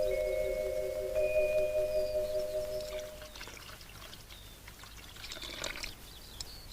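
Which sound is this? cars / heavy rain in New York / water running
water running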